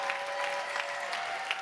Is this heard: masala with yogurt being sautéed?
no